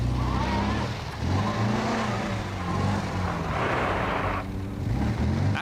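An MGB GT Coupe being driven around a course of plastic cones: a continuous engine drone rising and falling as the car accelerates, with a hiss of road noise, close and steady throughout.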